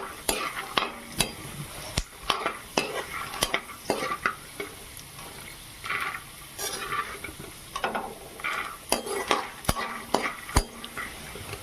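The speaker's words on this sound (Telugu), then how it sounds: "ఫ్రై అయిపోయినండి పల్లీలు కూడాను" Peanuts frying in oil in a pan for mango pulihora, stirred with a metal spoon that scrapes and clinks against the pan in irregular bursts over a steady close sizzle.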